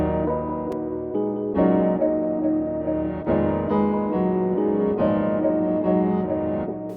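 A UK drill beat sounds out, built on sustained piano chords with a melody line on top, playing steadily and at moderate loudness with no voices over it.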